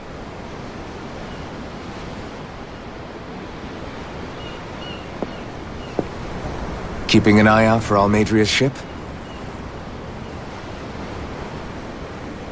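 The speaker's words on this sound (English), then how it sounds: "I'm looking at the ocean. The ocean? Yeah. The waves." Ocean waves wash steadily beside a ship at sea in Tales of Arise, with wind in the surf throughout and a voice speaking briefly midway over the roar.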